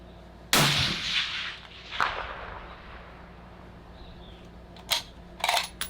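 A single sharp rifle shot from a Sig Cross with a Proof prefit barrel cracks loudly outdoors and decays over a second, followed by fainter distant cracks and clicks near the end.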